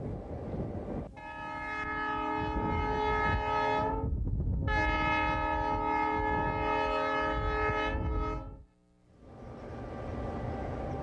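EMD GP9 diesel locomotive with a 16-cylinder diesel engine running and sounding its horn: a loud sustained multi-tone blast with a short break, then a second long blast over the engine's rumble.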